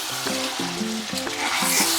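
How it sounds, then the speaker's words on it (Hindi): Spiced chicken masala for Rajasthani mohan maas roasting in a pan: a brief, soft sizzle with a few rhythmic stirring scrapes over about two seconds. "आप देख रहे हैं कि 2 मिनट हो चुके हैं और ये अच्छा भुन रहा है।"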